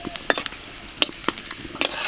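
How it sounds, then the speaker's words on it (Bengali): Bay leaf, cardamom, cinnamon, cloves and cumin seeds sizzle loudly in hot mustard oil, with a steady crackle and sharp spitting pops and metal clinks from stirring. "তেলের মধ্যে আমি তেজপাতা, গোটা গরম মশলা, এলাচ, দারচিনি, লবঙ্গ আর দিচ্ছি গোটা জিরে"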